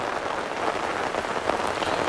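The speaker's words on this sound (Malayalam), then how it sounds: "ശക്തമായ മഴ തുടരുകയാണ്" Heavy rain falls in Wayanad, a dense, steady hiss of drops on surfaces that continues without a break and stays fairly loud and close.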